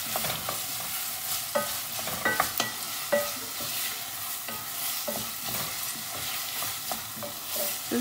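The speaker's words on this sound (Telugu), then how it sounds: "ఆనియన్స్ క్విక్గా ఫ్రై అవుతాయి" Onions frying in a pan for a spinach and potato curry, a steady close sizzle broken by frequent scraping and stirring clicks of a spoon against the pan, with no voices.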